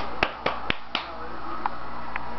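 Four sharp hand claps in quick succession, then two softer claps spaced apart, close and distinct against a quiet background.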